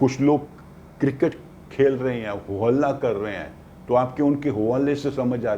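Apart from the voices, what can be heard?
No everyday noise stands out behind the speech.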